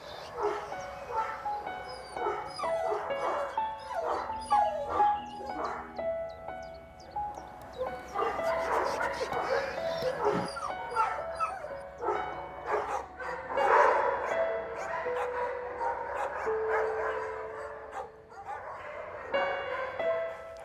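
An abandoned dog named Gaba whimpers and yips in a series of high, wavering whines with a few short barks, fairly close and continuing throughout amid faint background voices and room noise.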